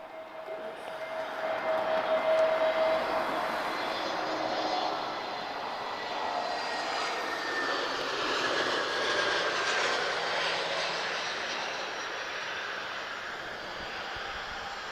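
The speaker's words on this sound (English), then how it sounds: "So, guys, Azores Airlines arriving now from Terceira." An Azores Airlines Airbus A320neo arriving at Lisbon Airport from Terceira gives a steady, broad roar with faint whining tones, heard at some distance and holding level for the whole stretch, with no voices.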